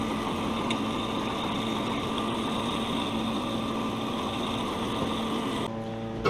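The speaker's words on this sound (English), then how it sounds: "Anytime you can fire up your hot rod's engine and see it run a little bit" A small hot rod go-kart engine idles steadily with a constant buzzing drone, close by and unchanging, then cuts off abruptly near the end.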